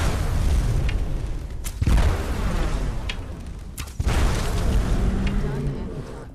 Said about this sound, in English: The Arrow of Fire, which creates an area of effect fiery explosion on impact.